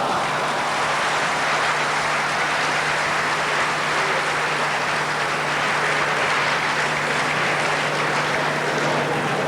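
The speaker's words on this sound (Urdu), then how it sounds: "آپ کے سامعین کی تالیاں گواہ ہیں اس بات کی کہ آپ کا کلام سب کو پسند آیا" A hall audience at a 1988 poetry gathering in the UAE breaks into sustained, steady applause after a recitation, many hands clapping evenly throughout with a faint low hum beneath.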